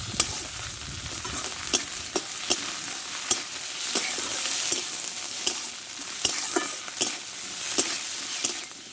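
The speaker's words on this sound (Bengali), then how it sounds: "আর দেব হাফ চামচ মতো আদা বাটা আর দেবো হাফ চামচ মতো রসুন বাটা দিয়ে ভালো করে আমি এটা ভেজে নেব" Ginger and garlic paste fries in a pan for an okra dish with a dense, hissing sizzle throughout, broken by sharp, regular clicks and scrapes of a spoon stirring against the pan, close and fairly loud.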